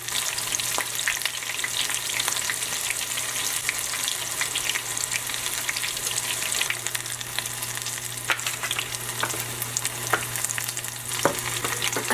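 Breaded okra frying in oil on a stove set to high, a steady dense crackling sizzle that runs continuously and evenly throughout, close up with scattered sharper pops and no talking.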